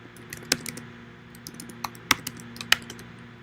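Keys clack on a computer keyboard in irregular bursts, with sharp distinct clicks spaced by short pauses, close and clear over a quiet hum.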